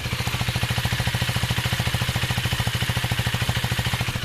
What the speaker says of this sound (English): This is what it sounds on idle